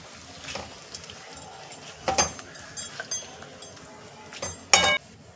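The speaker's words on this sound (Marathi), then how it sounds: "हे पहा, हळूवार परतून घ्यायची आहे, जेणेकरून कोळंबी मोडता कामा नये." Prawns being gently sautéed and stirred in a pan for an Agri Koli prawn curry, with a scattering of light metallic clinks and scrapes from the utensil against the pan, faint and irregular.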